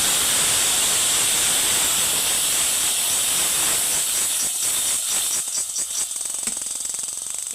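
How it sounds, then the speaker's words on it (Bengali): Spice paste of cardamom, cinnamon, cloves, ginger and garlic paste sizzles loudly as a little water is added, an intense hiss that slowly settles into crackling bubbles. "অল্প একটু পানি দিয়ে মশলাটা একটু কষিয়ে নিব।"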